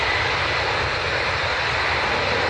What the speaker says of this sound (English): Much quieter than the other Ryanair, so not using as much power, obviously.